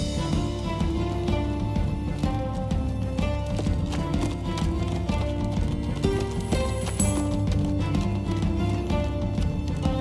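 Rhythmic galloping hoofbeats of a horse in the video game Minecraft: Story Mode, over a loud, continuous music track, steady and driving throughout.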